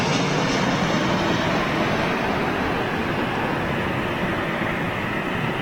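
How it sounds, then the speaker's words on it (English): A Boeing 787 Dreamliner airliner passes at Manchester Airport, heard as a loud, steady broadband engine roar that holds without a break throughout. "Oh no, that's a Dreamliner."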